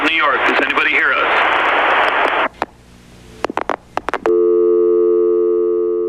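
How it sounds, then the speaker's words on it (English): A distorted, radio-like voice cuts off into sharp clicks, then a steady, unbroken telephone line tone hums to the end. "then a dead phone line"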